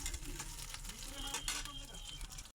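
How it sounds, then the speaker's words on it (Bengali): Green chilies and onion frying in oil in a wok while cooking okra, a steady bright sizzle with faint stirring scrapes running through the short stretch, close and fairly loud. "আমি কাঁচামরিচ এবং পেঁয়াজ কড়াইতে তেলের ভিতরে দিয়ে দিলাম।"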